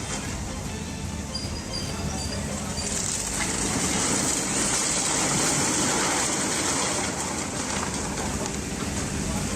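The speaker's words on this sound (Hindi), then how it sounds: "भारी बारिश से चुरमाला में भी पानी पूरी ताकत से सड़क पर बहने लगा।" Heavy rain pours in Churmala while floodwater rushes forcefully along a road, making a dense, steady roaring hiss that stays loud and unbroken throughout, with no voices.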